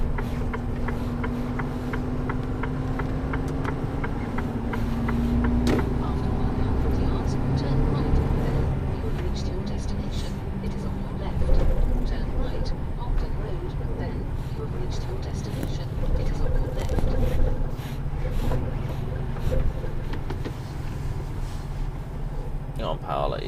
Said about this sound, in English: Then I'll have to drive a very noisy car all the way down to Wilton.